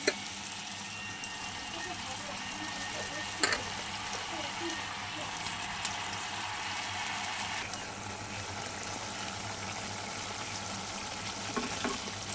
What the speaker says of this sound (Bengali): চলো এবার আমি একটু নাড়াচাড়া করে শাকটা দিয়ে দেবো।